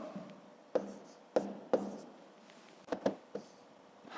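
A pen writing numbers in a school math notebook, heard close and quiet as short scratchy strokes and taps in an irregular rhythm against near silence.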